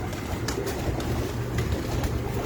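Several pigeons on a rooftop keep up low, throaty cooing, near and moderately loud, blended over a constant rumbling background.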